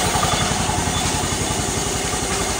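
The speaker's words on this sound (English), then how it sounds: "Usually let it warm up for about 5 or 10 minutes, the engine" A small garden tractor engine idles steadily while warming up before a snowstorm in cold weather, a close, even, pulsing chug with no voices.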